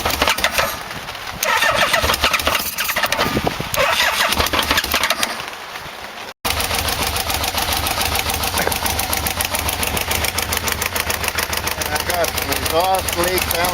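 A Yamaha Vmax motorcycle engine in the rain, with a loose choke, cranks and fires, then settles into a loud, steady, throbbing idle that carries to the end.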